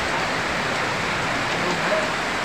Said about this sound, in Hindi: देखो कितनी तेज बारिश